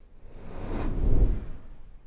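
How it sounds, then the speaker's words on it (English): A soft whoosh swells and fades over about two seconds, peaking midway with a low rumbling body and no other sound. "by adding this whoosh sound, it helps tie the 2 clips together"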